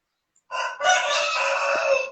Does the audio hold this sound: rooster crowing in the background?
yes